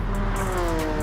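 A Honda NSX race car in GT Sport at the Maggiore circuit gives off a loud, steady engine drone with a sustained harmonic whine, heard close and alone for about a second.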